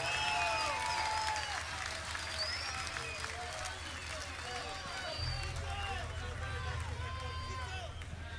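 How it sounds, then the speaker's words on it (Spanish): Concert crowd at a rock show in Playa del Carmen, Mexico, 2019, applauding and cheering with scattered whistles, a dense, steady roar of many people throughout, with a low rumble of stage sound beneath. "Un aplauso para ellos que han logrado que esto funcione."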